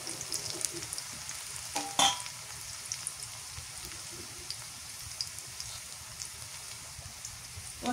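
Beef with cauliflower frying in a generous amount of oil crackles and spatters steadily like light rain, with one louder clack around the middle and faint scattered pops throughout.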